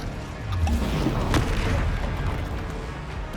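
Spell blasts and explosions burst in Hogwarts Legacy on PS5, a dense run of booming, crackling impacts layered with rumbling magic effects, loud and continuous for a few seconds with a sharper crack near the middle.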